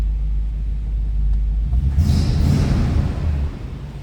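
A 1949 Ford Club Coupe, freshly cold-started, gives a deep low rumble at idle that swells into a brief throttle blip near the midpoint before settling back, close and steady throughout.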